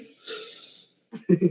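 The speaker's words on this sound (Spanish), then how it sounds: "Hagan un sonido al respirar." A breathy, noisy exhale with a hissing quality, followed after a short pause by a few louder, rhythmic snorting or wheezing breaths.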